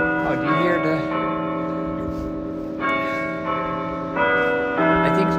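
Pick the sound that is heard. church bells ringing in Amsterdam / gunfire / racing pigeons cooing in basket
church bells ringing in Amsterdam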